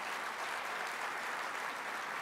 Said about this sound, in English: Let's show a round of applause for the Thunder.